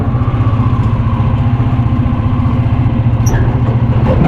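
A motor tricycle engine running loud and close while towing a motorcycle, a steady low rhythmic putter with rattling clatter, unbroken throughout with no talk.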